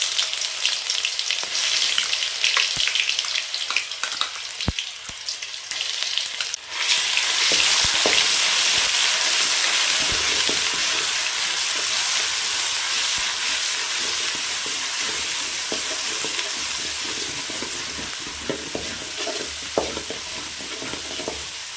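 Whole spices such as cinnamon, fennel, cloves, a cardamom pod and bay leaf frying with ginger garlic paste in oil for mutton fry, a loud close sizzle that swells sharply as the paste goes in, then holds steady.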